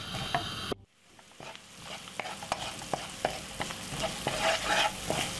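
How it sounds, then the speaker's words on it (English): Curry with garlic and onion frying in a pan, a soft steady sizzle with repeated sharp stirring scrapes and taps of a utensil against the pan, quiet and close with no talking. "You're gonna be frying off this for roughly about 4 to 5 seconds."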